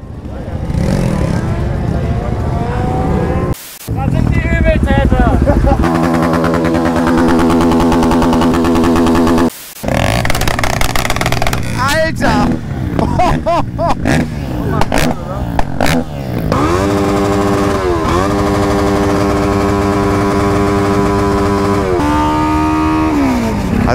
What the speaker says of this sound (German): da ist ein Motor drauf und diese Ranzkarre ist befestigt an der Holzpalette, wo dieser alte Motor drauf steht